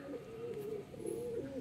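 A pair of young domestic pigeons coos close by, soft throaty warbling calls rising and falling in quick succession over a quiet background.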